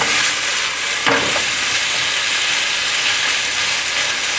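Beef with ginger and garlic sizzles steadily in a stir-fry pan, a dense continuous frying hiss with one brief clatter of stirring near the start.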